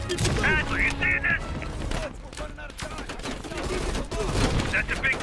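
Heavy machine gun fire rattles on a ridge in the Call of Duty Black Ops Cold War campaign, a dense, continuous barrage mixed with shouting voices and music over a rumbling battlefield.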